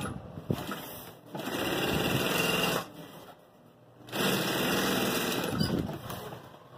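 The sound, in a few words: sewing machine stitching grosgrain ribbon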